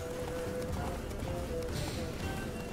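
Hooves of the horse Roach galloping in The Witcher 3, a steady fast clip-clop running throughout under constant game ambience.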